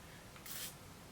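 Tilbury Airbrush Flawless Setting Spray misted onto a face in one short, soft hiss of fine spray, close and fairly quiet against a faint room background.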